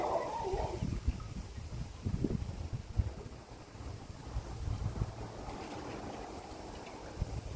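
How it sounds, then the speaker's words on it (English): Strong winter storm wind buffeting an outdoor microphone, producing loud low rumbling gusts and thumps that rise and fall continuously, with no speech. "It's getting quite windy now. I think things gonna literally be blowing on the microphone there."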